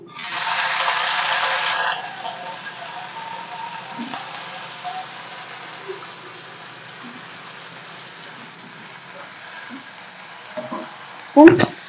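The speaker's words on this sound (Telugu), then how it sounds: "ఇప్పుడు అదే ప్యాన్లోకి మనం ముందుగా కట్ చేసి పెట్టుకున్న వంకాయ ముక్కలను కూడా వేసుకోవాలి" Eggplant pieces fry in a pan, with a burst of loud sizzling at first that settles into a quieter, steady crackle with occasional soft scrapes, ending in a sharp clatter.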